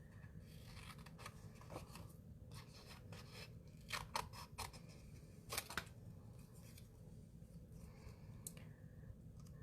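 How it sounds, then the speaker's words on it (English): Scissors snip through a piece of patterned paper, producing faint, close crisp cuts and soft rubbing scrapes at an irregular pace in a quiet room. "So I'm just going to cut this out."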